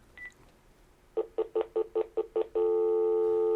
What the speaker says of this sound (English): If I pick up the speaker, you will see some beep, beep, beep, beep, beep first, and then continuous tone.